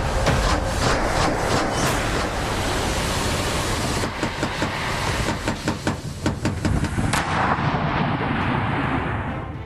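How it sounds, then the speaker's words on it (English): A massive airstrike explosion in Kyiv booms with heavy, rumbling blasts and broad noise, followed by a series of sharp cracks and thuds toward the end, with no voices. "This horrific drone image captures a massive explosion in the capital city, Kyiv."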